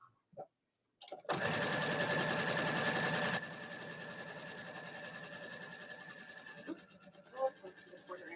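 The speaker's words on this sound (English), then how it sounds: "we're sewing about 1/8 of an inch away from the edge, like really close to this edge" Sewing machine stitching two layers of fabric about an eighth of an inch from the edge, starting after a few soft handling sounds, running steadily and loud, then continuing a little quieter before stopping amid light fabric rustling.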